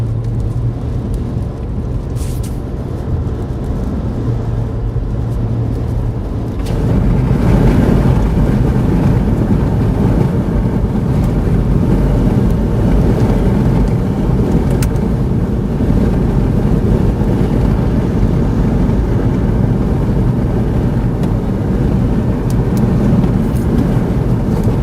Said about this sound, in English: Drive into the wind here a little bit.